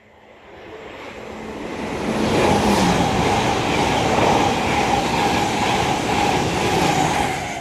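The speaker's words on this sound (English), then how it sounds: "Pass through now will be a dual pair of LNER Azumas working a service from Edinburgh Waverley to London King's Cross" A pair of LNER Azuma trains passes through Retford station on the East Coast Main Line, rising from quiet into a loud, sustained roar of wheels and rails with faint squealing and clatter.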